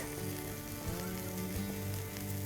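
Vermicelli upma with peas, seasoned with salt, stirred in a pan on a medium flame, giving a steady close sizzle with faint scraping stir sounds and no talking.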